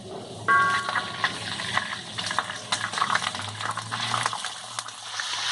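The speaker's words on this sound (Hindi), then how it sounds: "चिकन को हम मीडियम हाई फ्लेम पर फ्राई करेंगे" Small minced chicken pieces fry in a kadhai over a medium-high flame, giving a continuous soft sizzling and bubbling with occasional stirring clatter, moderately close and without talk.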